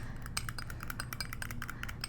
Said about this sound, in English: We're just gonna stir vigorously.